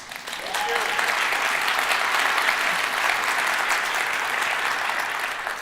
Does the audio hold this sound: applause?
yes